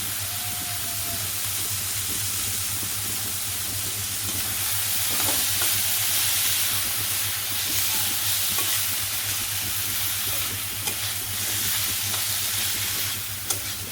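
Spice masala sautés in a pan with a steady, even sizzle and hiss, broken by occasional faint stirring scrapes, close up over a constant low hum.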